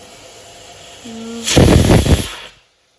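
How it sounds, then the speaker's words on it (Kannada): A pressure cooker whistle blows off steam in a kitchen, a loud broadband hissing burst that swells for about a second and then cuts off abruptly into silence, preceded by a quieter steady hiss and a brief tonal whine. "ವಿಸಿಲೆಲ್ಲ ಹೋಗ್ತಾ ಉಂಟು ನೋಡ್ ಅಂದರೆ ಕೇಳ್ತಾ ಉಂಟಲ್ಲ ನಿಮಗೆ"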